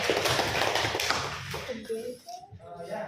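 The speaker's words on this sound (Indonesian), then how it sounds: "kita beri aplaus kepada kelompok 3" A group of students applauding a presenting group in a classroom: a short burst of dense hand clapping that fades out after about two seconds, followed by a speaking voice.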